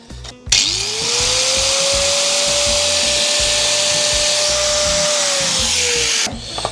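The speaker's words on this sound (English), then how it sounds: "the angle grinder is such overkill. It's just such thin sheet." Angle grinder slicing through a thin metal sheet for bonnet pin washers on an Altezza carbon hood, a steady loud whine that spins up, holds for about six seconds and cuts off.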